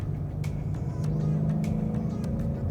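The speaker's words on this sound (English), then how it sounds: "you can actually hear the car accelerating because the throttle gets more sensitive" A 2010-2023 Ford Mustang engine fitted with an SCT Performance throttle booster holds a steady, close, droning rev around three thousand rpm, a continuous low hum with slight rises in pitch.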